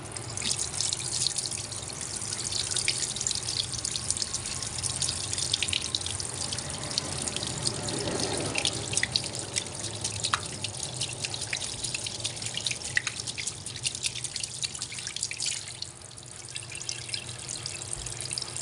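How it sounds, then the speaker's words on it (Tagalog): A tap runs continuously over a grilled eggplant to cool it, water splashing and trickling into a sink for a long stretch, steady and fairly close with no voices. "Itatapat lang po natin sa tubig."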